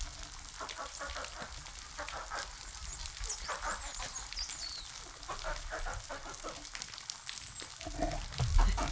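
Dolphin whistles and clicks recorded underwater: rising and falling high squeals sweep repeatedly over a steady crackling background, with a louder burst near the end.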